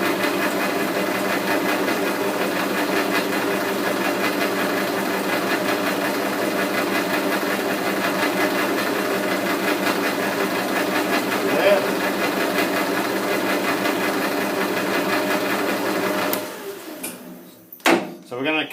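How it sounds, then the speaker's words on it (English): Metal lathe turning at its slowest speed while cutting a metric thread with a quick-draw method, a steady mechanical hum and whir running continuously until it winds down near the end. "So we're going to cut this in the lathe slowest speed"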